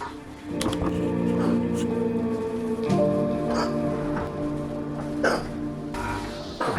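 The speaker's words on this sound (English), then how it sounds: "as you can hear, he has the hiccups right now" A baby boy with hiccups, indoors around feeding time; brief repeated hiccup bursts are heard among household background sound and occasional talk.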